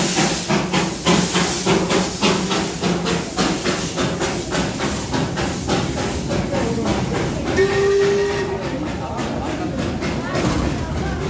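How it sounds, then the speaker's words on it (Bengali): A Darjeeling toy train steam locomotive hisses steadily and loudly up close, with broadband steam noise throughout and chuffing pulses, while people talk nearby. "Toy train."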